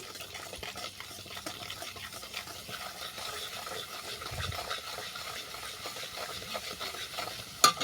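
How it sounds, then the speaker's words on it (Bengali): Kohlrabi and potato pieces frying together in oil with salt and turmeric, a faint, continuous low sizzle with light stirring and occasional small clicks, heard close by. "এই তেলের মধ্যে ওলকপি আর আলু আমি একসঙ্গে ভেজে নিচ্ছি"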